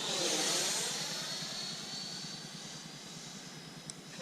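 Freewing F/A-18C Hornet 90mm electric ducted-fan RC jet flying past, a loud whooshing whine that peaks early and fades steadily as the model moves away, with no voices.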